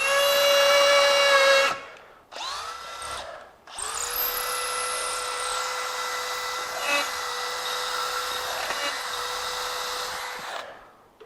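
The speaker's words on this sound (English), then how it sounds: "using the same drill and drill bit to go through all three materials and bury it deep" DeWalt DCD805 XR 20V MAX hammer drill boring into cinder block: a loud, steady high-pitched motor whine with bit grinding, briefly stopping and restarting twice near the start, then running continuously for about seven seconds before cutting off.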